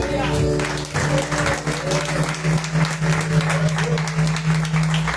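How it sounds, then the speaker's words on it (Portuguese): A congregation at a spiritual retreat applauds loudly and continuously, dense clapping sustained over a low droning musical tone, with a voice calling out over it. "Põe suas mãos e aplauda Jesus bem forte"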